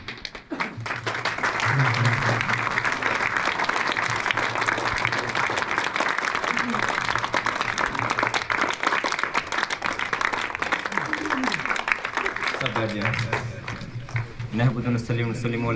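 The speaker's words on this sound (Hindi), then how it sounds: "खड़े होकर भरपूर तालियों के साथ उनका इस्तकबाल किया जाए" A hall audience rises for a standing ovation, with sustained dense clapping and crowd noise filling the whole stretch at a steady, loud level, while someone speaks over it and a low musical tone runs underneath.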